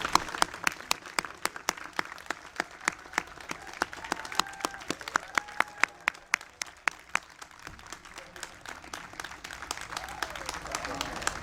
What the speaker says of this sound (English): How about a round of applause for our newest citizens?